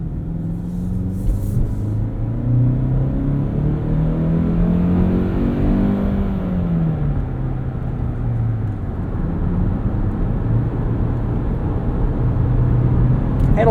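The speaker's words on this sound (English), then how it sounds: "My only complaint is this engine just seems really unrefined, and it's a little bit low on power for a vehicle of this size and in this class." A 2023 Kia Sportage X-Pro Prestige engine accelerates while driving, a steady droning rumble whose pitch climbs, dips and climbs again over constant road and tire noise, with no talk.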